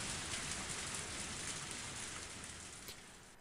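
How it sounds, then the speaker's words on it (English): Torrential rain pours in the Higurashi visual novel as a dense, even hiss of falling water that fades slightly toward the end, with no speech over it. "Even in this torrential rain, they didn't have an umbrella."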